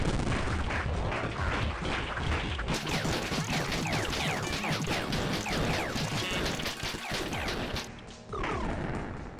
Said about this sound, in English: Zombies piled up and the mechanic's mountie may sometimes shoot at it.